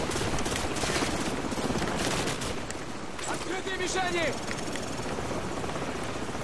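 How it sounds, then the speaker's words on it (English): Loud, steady rotor thump of a helicopter mixed with bursts of gunfire in the video game Call of Duty 4: Modern Warfare, continuous and close, with a brief voice partway through. "Watch out for the helicopter."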